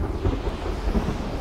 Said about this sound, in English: I hear thunder, but I'm not seeing any lightning.